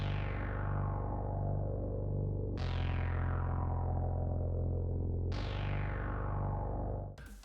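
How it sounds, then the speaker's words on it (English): A deep, sustained synth bass tone holds steady, with three long notes each starting on a bright attack that slowly mellows, played alone. "Let's start with the first bass sound, which is the bass sustain sound."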